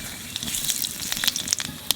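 Nigella seeds (kalo jeere) dropped into hot oil in a pan where fish has just been fried, giving a steady close sizzle dotted with sharp crackling pops.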